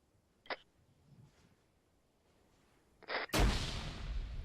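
A grenade explodes in a military shooter game, a loud broadband blast that follows two short sharp cracks and then rolls on as a sustained rumble.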